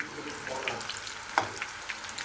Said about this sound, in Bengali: আমি এপুট উপুট করে একটু লাল লাল করে পাকোড়াটা ভেজে নিব।